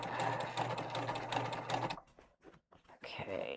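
A sewing machine stitches a tote bag with a pocket, running in a steady close whir for about two seconds, stopping briefly, then resuming, with a voice speaking over part of it.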